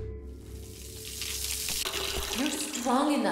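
Steady shower water running in the video game Observer, a continuous hissing spray that holds from start to end and swells slightly louder near the close.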